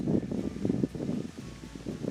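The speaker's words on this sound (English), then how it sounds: "Sorry, it's so windy." Low, gusty wind rumbles and buffets against the microphone, rising and falling in uneven bursts with no voices.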